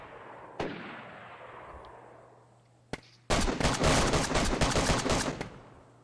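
Gunfire in the video game DayZ: a single sharp shot with a long decaying echo, another brief crack, then a rapid burst of many shots in close succession, fairly loud, ending abruptly.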